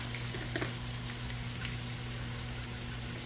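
Food sautés in a pan with Creole seasoning and parsley, giving a steady, close, soft sizzle and crackle with a few faint stirring scrapes and no talking.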